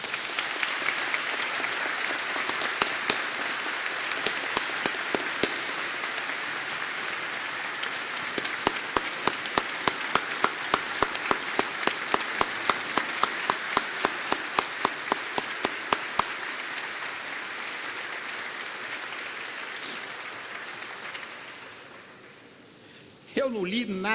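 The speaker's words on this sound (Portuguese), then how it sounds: "E eu peço encarecidamente uma salva de palmas para o governador." An audience at a formal medal ceremony applauds the governor with sustained applause and sharp individual claps, fading out near the end before a voice briefly begins to speak.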